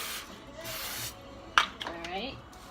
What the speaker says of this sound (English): I'm going to spray my pan just a little bit so nothing sticks